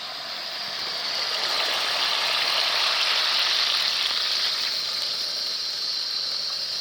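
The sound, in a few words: water poured into cooking pot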